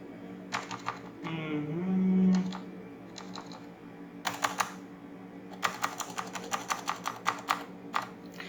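Bursts of computer keyboard typing while C code for a nested for loop is entered, clustered clicks in uneven runs, with a short low hum partway through and no talking.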